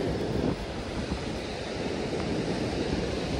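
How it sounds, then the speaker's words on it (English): Wind blowing outdoors, a steady broadband rush with rumbling microphone buffeting throughout, close and fairly loud, with no voices. "because it's starting to get a bit windy now"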